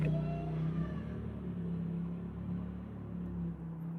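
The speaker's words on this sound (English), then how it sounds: "Doing a little revving." Vehicle engine revving on a street in Portland, heard as a low, steady rumble with a slight rise in pitch, fairly faint and continuous, with no talking.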